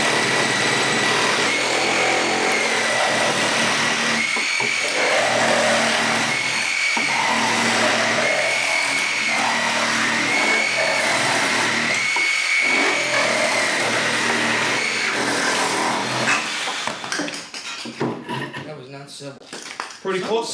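Milwaukee M18 Hackzall and DeWALT XR cordless reciprocating saws cutting through PVC pipe at the same time, a loud, close, continuous rasping buzz with a rhythmic stroke pulse that breaks up near the end.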